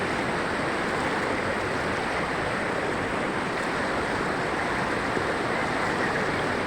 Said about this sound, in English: So we're walking across this river. It's quite strong.